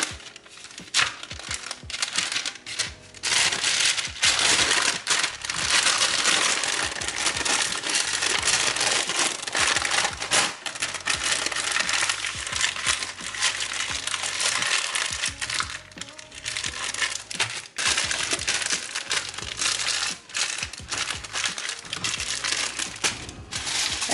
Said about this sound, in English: So I prepared some grease paper here and some foil. Now I'm going to go ahead and wrap them up,